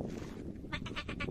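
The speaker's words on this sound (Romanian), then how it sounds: "ca în orice, orice zonă din munte, sunt multe capre" Goats bleat in the Măcin Mountains near Tulcea: a quick run of four or five wavering calls, fairly faint and distant over a breezy outdoor hush.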